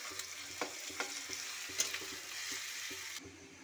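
Finely chopped onions fry with cumin, cardamom, cloves and ginger in a pan, giving a steady quiet sizzle with occasional stirring clicks and scrapes, heard alone without talk.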